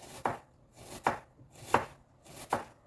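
Knife chopping an onion into thin rings on a board for a tomato appetizer, four crisp, evenly spaced chops close up with quiet pauses between and no talking.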